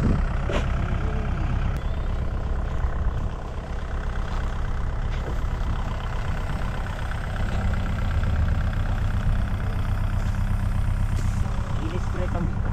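A tractor engine idles close by at a sweet potato harvest, with a steady rumbling drone running throughout while people talk over it.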